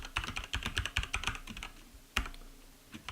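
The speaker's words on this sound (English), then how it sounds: "here I'll type" Rapid bursts of keystrokes on a computer keyboard, close and clear, with a short pause and a few final isolated key presses near the end.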